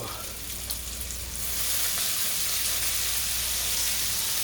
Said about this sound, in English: I love the sizzling sound when I'm cooking